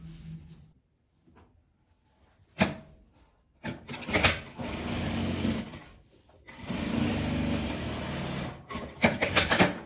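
Sewing machine topstitching a small multipurpose fabric gift bag, running in two close, steady bursts of rapid stitching separated by a brief pause, with quiet handling noises before.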